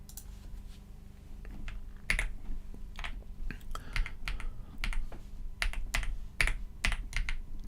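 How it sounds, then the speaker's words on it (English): Slow, irregular typing on a computer keyboard during a photography livestream, crisp individual key clicks spaced unevenly over a low background hum, with occasional soft voices in between. "The microphone's in the way, so I'm typing slow."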